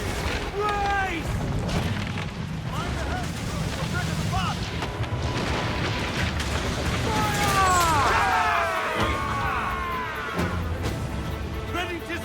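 Ship cannons firing in the pirate video game Assassin's Creed Black Flag, low booms rumbling under shouting crew voices and music-like tones, with a heavier burst of blasts toward the end.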